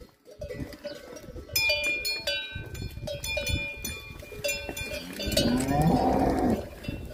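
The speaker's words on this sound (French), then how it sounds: "Ah bah ça tombe bien, c'est des bœufs." Oxen lowing loudly and repeatedly at close range on a rural stretch of the Camino in Galicia, with cowbells clanking and jingling throughout and a deep, drawn-out moo rising near the end.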